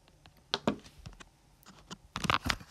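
Keys clatter on a computer keyboard in short separate bursts and quick clusters, near and fairly quiet, with the densest run of taps toward the end and no talking.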